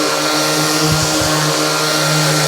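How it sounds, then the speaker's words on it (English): A spalted sycamore bar gets a quick power sanding, a loud continuous whirring grind that holds steady for the whole stretch with no voices. "let's just give it a quick sanding."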